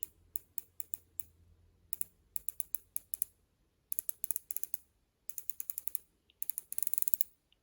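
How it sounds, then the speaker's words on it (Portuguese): Crisp mechanical clicks from the adjustment turret of a Nutrek Blackiron 6-24x50 rifle scope, fast runs of detents in several bursts separated by short pauses, close and quiet with no talking. "E estes aqui são os cliques."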